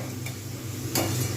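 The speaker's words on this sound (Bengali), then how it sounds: "একটু ভালোভাবে ভেজে নেবো চিকেনটা। বেরেস্তা পেঁয়াজের সঙ্গেই ভাজবো" Chicken fries on low heat in a pan with crisp-fried birista onions for Hyderabadi chicken dum biryani: a soft, steady sizzle with a brief stirring scrape partway through.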